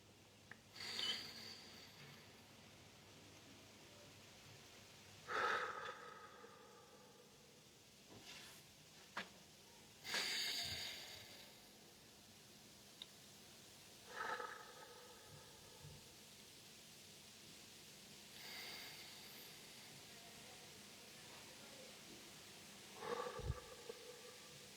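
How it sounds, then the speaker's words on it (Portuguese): Slow deep breathing during a guided meditation, heard as several soft, airy inhale and exhale swells spaced seconds apart, faint and close against a quiet background. "Respira profundamente comigo 3 vezes."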